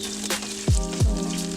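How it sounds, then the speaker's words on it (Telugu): Green chillies, curry leaves and onions fry in a pan for a tomato curry, giving a soft steady sizzle, with two dull stirring knocks close by. "దెన్ పచ్చిమిర్చి, కరివేపాకు, ఆనియన్స్ వేసి మంచిగా ఫ్రై చేయాలి"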